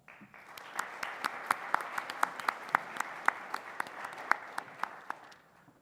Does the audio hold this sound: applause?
yes